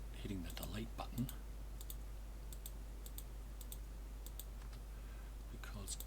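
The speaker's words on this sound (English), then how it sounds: "I'm just sort of clicking and right and then hitting the delete button" Quiet, close mouse clicks and keyboard delete-key taps at a computer while editing supports in resin 3D printing slicer software, sparse and irregular, with someone talking between them.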